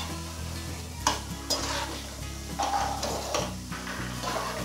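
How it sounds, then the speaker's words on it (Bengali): Small scribbled goby fish stirred in a pan of well-cooked spice masala for a Bengali mustard fish curry, with a steady sizzle and soft scraping strokes of the spatula, close and moderately quiet, without talk. "এইবার আমি এর মধ্যে মাছগুলো দিয়ে দিচ্ছি, দিয়ে একটু মাছগুলো নাড়িয়ে নেব।"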